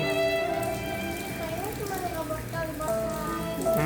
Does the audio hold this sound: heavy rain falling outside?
yes